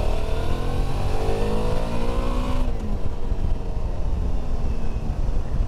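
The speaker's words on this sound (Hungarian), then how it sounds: "jó kis V-motor." A Suzuki V-Strom motorcycle's V-twin engine revs up with rising pitch for a few seconds, then drops back to a steady close idle rumble, with constant road or wind noise underneath.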